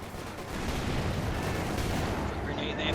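Battle noise in Company of Heroes 2, a dense continuous roar of artillery and gunfire with rumbling blasts layered together, loud and unbroken throughout.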